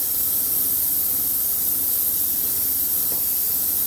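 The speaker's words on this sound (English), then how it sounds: "Right, silicone spray going in." Silicone spray hissing from an aerosol can onto a Suzuki TF185 motorbike, a steady, close, loud continuous spray lasting the whole stretch with no talk.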